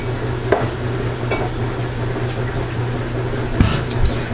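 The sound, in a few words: handling a microwave-safe container for soap making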